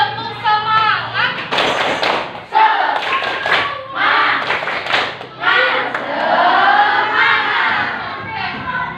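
A school class chants together in a rhythmic 'tepuk semangat' clapping routine, loud crowd voices shouting over bursts of claps and thumps, with a teacher's voice leading.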